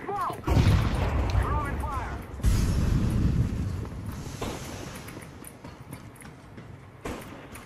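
Gunfire in a shooter video game, with heavy booming shots, a loud burst early and another midway, fading into lighter reports while a voice talks.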